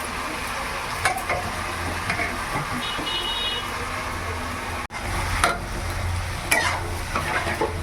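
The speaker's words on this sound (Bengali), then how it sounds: "এই চর্বিটার সাথে এই মশলাটাকে আমি 3-4 মিনিট কষিয়ে নেব।" Ginger garlic paste sizzles in a pan with beef fat while a spoon stirs it, a continuous close frying hiss broken by scraping strokes and a brief pause.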